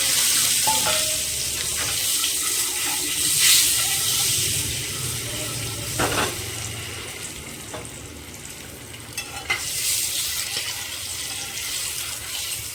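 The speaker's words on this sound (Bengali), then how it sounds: "ডিমগুলো আমার লাল লাল করে ভাজা হয়ে গিয়েছে," Peeled boiled eggs, lightly scored with a knife, fry in a pan until reddish-brown, giving a close, steady sizzle with occasional stirring scrapes and a faint trickle of running water in the background.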